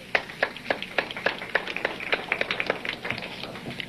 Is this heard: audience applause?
yes